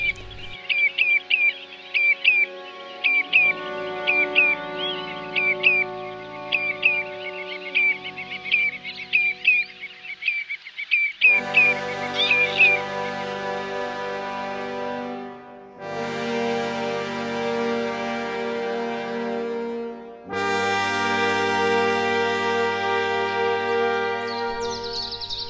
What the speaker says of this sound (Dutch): In het winterse riet hoor je de baardmeisjes met hun luidruchtig gepinkel.